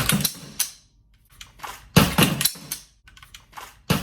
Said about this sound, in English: So when you put them in, it is like loading a full mag.